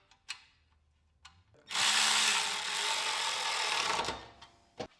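A power tool drives bolts on a Generac generator, starting with a few short taps and bursts before one steady loud whir of about two and a half seconds, followed by brief clicks and handling knocks.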